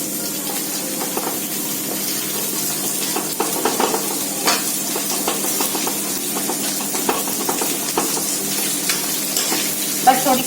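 Long-sliced onions frying and being stirred in a pan in a home kitchen, a steady close sizzling hiss throughout with scattered scraping clicks, no voices.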